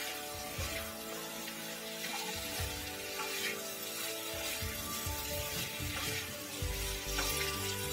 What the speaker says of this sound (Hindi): पटल और आलू को इसके साथ अच्छी तरह से मिक्स कर देना है मसाला के साथ।